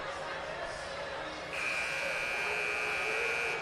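A sustained electronic buzzer drones loudly over a noisy high school basketball arena crowd, steady tone continuing without pause.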